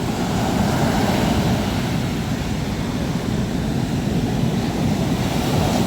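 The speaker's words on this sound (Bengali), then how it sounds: "আর তার সাথে সাথে এত সুন্দর মানে ঢেউয়ের আওয়াজ" Sea waves break on the beach at Puri, a steady, loud broadband roar of surf mixed with gusty wind noise, continuous throughout with no talking.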